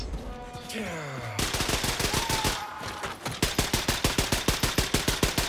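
Gunfire in Wolfenstein II: The New Colossus: after a whooshing, groaning sweep, a loud steady stream of rapid automatic shots hammers out at an even rhythm, close and dominant to the end.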